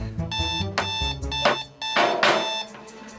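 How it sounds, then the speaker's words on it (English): A rapid, bright electronic ringing from an alarm clock, pulsing in bursts with a brief dip midway, loud and close with no voices. "You hit the snooze alarm. Yeah, and then 9 minutes later, it wakes me up again."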